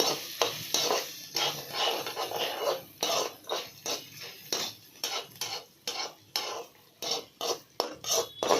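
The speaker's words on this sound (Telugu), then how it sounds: "ఇప్పుడు ఇంకా నూనె అంతా లాగేస్తుంది తెల్లగడ్డ బాగా ఫ్రై చేసుకొని" Crushed garlic frying in oil with steady, rhythmic scraping and stirring strokes of a spatula against the pan, a soft sizzle running underneath, close and fairly loud with no voices.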